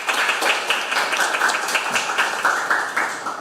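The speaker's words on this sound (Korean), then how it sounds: "좋은 말씀 주신 김인 위원님께 다시 한번 큰 박수 부탁드립니다" Audience clapping at a Korean policy forum on retirement pensions for social welfare workers, a steady patter of many hands at moderate distance, filling the room without speech.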